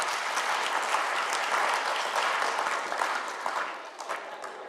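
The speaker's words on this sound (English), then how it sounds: "Will you join me in recognizing them with a round of applause?" A conference audience gives a steady round of applause, the dense clapping holding even and moderately loud before thinning slightly toward the end.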